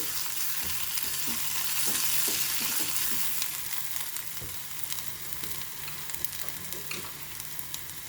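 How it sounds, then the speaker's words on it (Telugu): Drumstick pieces frying in a masala curry for a Bhimavaram-style kaju boondi mulakada dish, with a dense, continuous close sizzle and scattered crackles and stirring scrapes throughout, heard alone. "ఇప్పుడు ములక్కాడ ముక్కలు వేసేసాను."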